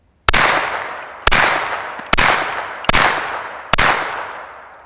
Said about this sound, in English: Now 5 rounds of the Winchester 115s.